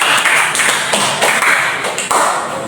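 Students in a classroom applaud a classmate, with a loud, dense burst of clapping that runs continuously, marked by a few sharper accented claps.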